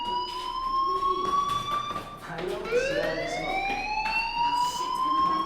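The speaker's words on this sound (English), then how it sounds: "Hey, do you hear that fire alarm?" A fire alarm in the video game Life Is Strange rings steadily with loud, rising electronic tones that swell and repeat throughout, close and continuous with no talk over it.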